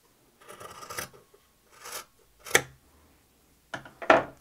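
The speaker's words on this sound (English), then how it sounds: "A nice sharp pair of scissors is really handy for this." Sharp scissors snip through a fabric strip for a log cabin quilt block, four crisp close cuts spaced a second or so apart, each a short bright rasp, with no talking.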